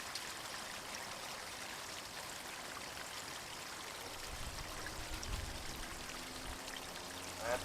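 Water rushes steadily through an RV black tank rinse fitted with a Flush King valve, a constant hissing stream that swells slightly toward the end.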